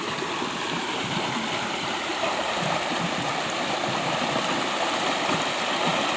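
A small stream of shallow flowing water burbles and rushes continuously nearby, a steady even wash of sound with no voices.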